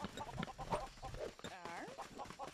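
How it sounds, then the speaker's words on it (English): Chickens cluck in the Lego Worlds video game, short fowl calls scattered over a quiet game soundscape with a brief chirpy effect midway, faint and low in level. "So let's give her a lot of chickens."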